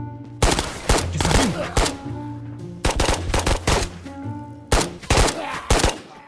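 Rapid bursts of gunfire from the VR shooter game Ghosts of Tabor, loud and close, coming in three clusters of sharp repeated shots with game sounds in between.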